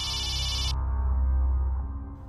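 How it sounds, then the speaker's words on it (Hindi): A mobile phone ringtone rings loudly and continuously for under a second, then cuts off, leaving a low indoor hum. "ये किसका फोन है?"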